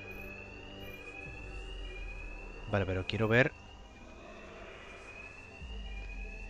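An alarm rings at the Gotham bank in Batman Arkham Knight, a steady electronic tone running behind a voice, interrupted midway by a short burst of louder rising and falling wails.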